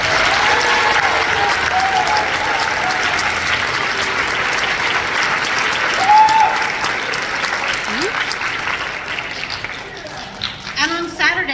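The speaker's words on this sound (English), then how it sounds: "Please give them a round of applause" A crowd at a high school band concert applauds two all-district band students, a trombonist and a clarinetist, in a full, sustained round of clapping with a few whoops rising over it.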